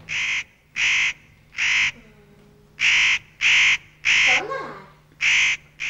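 Harsh, crow-like bird calls in a steady rhythm, about eight loud rasping caws spaced evenly and close up, with a faint voice-like sound partway through.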